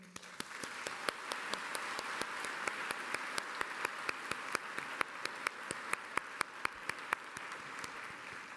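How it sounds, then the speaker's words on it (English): Audience applause at the Hult London undergraduate graduation ceremony for the Class of 2023: a steady wash of many hands clapping in a large hall, with sharp individual claps standing out near the front, sustained throughout. "I would like to ask you for a round of applause for all of them here today"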